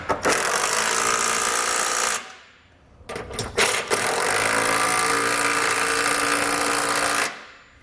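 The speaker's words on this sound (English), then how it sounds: "come back with a 19mm socket and snug everything down" A power tool runs in two long steady bursts, whirring loudly for about two seconds, pausing, then buzzing again for four seconds, while a 19mm socket snugs trailer hitch hardware on a 2017 Subaru Crosstrek, with a few short blips between runs.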